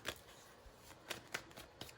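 Tarot cards being shuffled by hand, with sharp papery riffling bursts repeating at irregular intervals and soft rustling between them, close and clear with no talking.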